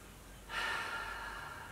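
Slow, deep breath drawn through the nose and mouth, a soft airy rush that swells after a brief pause and holds steadily, close and alone.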